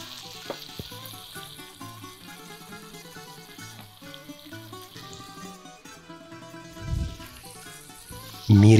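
Food fries in a little oil in a frying pan, making a continuous, moderate sizzle with occasional soft bumps and a louder knock right at the end.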